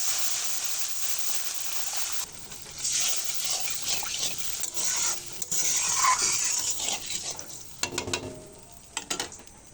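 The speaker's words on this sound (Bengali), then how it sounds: "এবারে দিয়ে দেব পরিমাণ মতো পানি" Water goes into a pan of fried spice masala for egg curry, giving a hissing sizzle and bubbling with scraping stirs, close and without talk.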